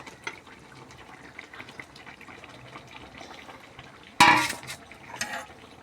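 Fried potatoes are tipped into a simmering homemade chicken curry, a sudden loud clatter and sizzling splash after a stretch of quiet bubbling, followed by a second rattle of utensil against pot.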